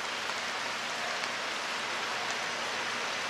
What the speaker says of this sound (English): And it's still raining in here,